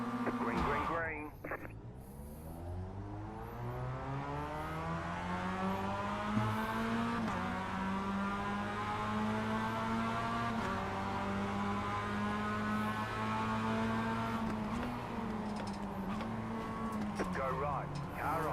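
Several Mazda MX-5 race cars accelerate together off the start at Virginia International Raceway, engines revving close and loud through rising and falling gear-change sweeps, with a voice talking over the steady engine roar.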